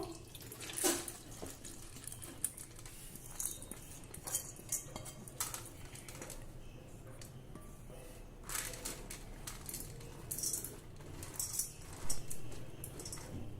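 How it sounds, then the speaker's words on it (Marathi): Soaked wheat grains drained in a sieve in a home kitchen, heard as a quiet, continuous wet trickle with scattered small clinks and rattles of the sieve, no voices. "आता चाळणीवर आपण हे निथळवून घेऊ"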